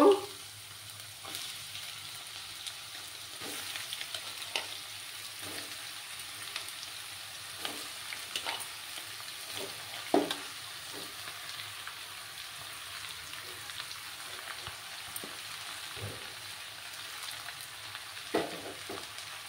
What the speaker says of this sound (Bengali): এবার লাউগুলো দিয়ে দেব।